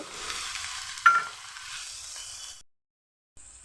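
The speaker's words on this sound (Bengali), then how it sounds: "কাঁচা লঙ্কা, সাথে দিয়ে দিচ্ছি কিছুটা বেগুন, এভাবে কেটে একটু ভেজে নেব।" Cut brinjal with green chilies fries in a pan with a soft, close sizzle and one sharp stir or clatter, then the sound stops abruptly and a brief faint hiss returns.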